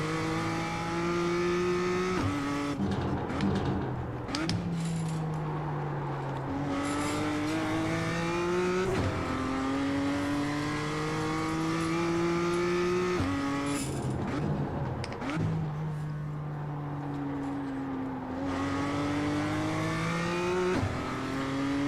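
A BMW M2 race car lapping the Lédenon circuit, its engine close and loud as it revs up in rising pulls, drops pitch sharply under braking and downshifts, then climbs again, with no talk.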